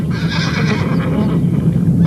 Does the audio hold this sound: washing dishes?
no